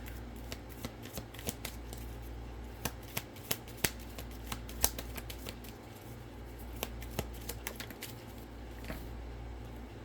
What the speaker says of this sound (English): So I'm going to pull off my cards here for a moment here.